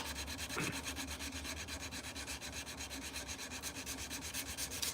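Steady hand sanding with abrasive grit paper at a forge workshop, a continuous close rhythmic rubbing scrape that runs alone without talk.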